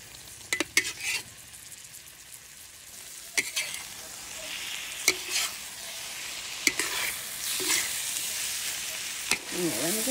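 Egg frying and being stirred in a pan, a soft steady sizzle broken by repeated sharp scrapes and taps of the utensil against the pan.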